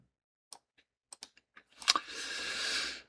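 Several separate computer keyboard keys are pressed, Ctrl plus and then the spacebar, as single crisp clicks spread out in time, followed by a sustained hissy rush of sound.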